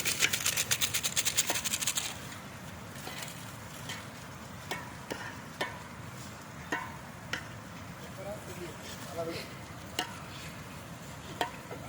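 Spoon scraping and clacking against a cooking pot as chicken masala with garam masala is stirred outdoors on a riverbank, a burst of louder stirring at first, then irregular, sharp knocks over a low steady background.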